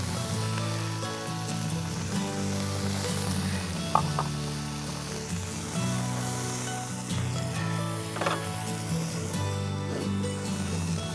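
Bacon frying in a pan over a campfire, a steady hiss and sizzle with light scraping and clinking of a utensil against the pan, close and continuous.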